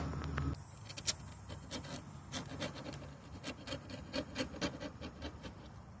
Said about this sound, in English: I'm gonna use a scraper, a razor blade, and I'm gonna peel some of that rust right in there out too.